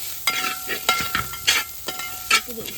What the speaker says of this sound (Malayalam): ഒന്നുകൂടി ഇളക്കി കൊടുക്കാം